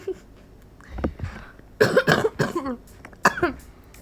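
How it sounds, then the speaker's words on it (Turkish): Several harsh coughs in short bursts, one person, close and loud, with a pause between clusters. "Ay ne biçim öksürüyor"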